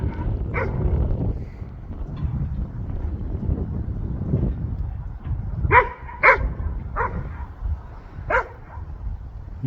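A dog barks several times in short bursts partway through, heard outdoors at a goat barn over steady wind and low background rumble.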